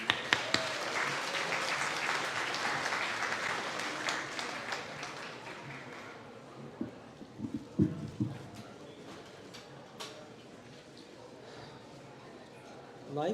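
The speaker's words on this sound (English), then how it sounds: "let's give a big round of applause for Azan." Audience applause at a family festival, dense clapping that builds and holds, then fades out as scattered claps and faint crowd noise remain.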